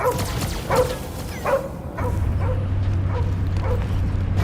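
Dog barks and yips from the video game Marvel's Guardians of the Galaxy, several sharp calls spaced out over a steady low rumble of game ambience, with a voice heard faintly in the mix.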